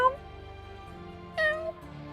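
A single meow, apparently a person's voice imitating a cat, rises briefly in the middle over a quiet background.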